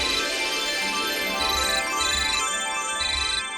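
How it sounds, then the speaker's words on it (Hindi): A phone ringtone plays a repeating electronic melody in short bursts, steady and fairly loud, with no one talking over it. "किसका फोन है?"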